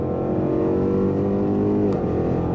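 A Range Rover SVR engine held in manual revs hard to about 5,000 rpm, a loud, steady, close-up roar with rising harmonics that drop away abruptly near the end.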